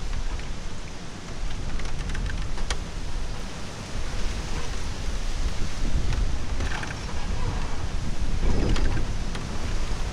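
Strong wind near Tagaytay buffets loudly and continuously, a dense roaring rush with gusts swelling and easing, no voices.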